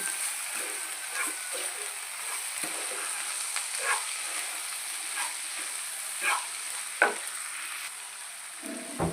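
Ingredients for egg fried rice, seasoned with salt and turmeric, sizzle in a pan under a steady hiss, broken by repeated scraping and clattering stirs at irregular intervals.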